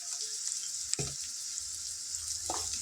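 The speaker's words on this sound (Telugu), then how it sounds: "అల్లం వెల్లుల్లి పేస్ట్ పచ్చివాసన పోయేంత వరకు ఫ్రై చేసుకుందాం" Ginger-garlic paste with turmeric and salt frying in oil for a bottle gourd curry: a continuous bright sizzle, close and steady, with two brief soft stirring knocks, no talk.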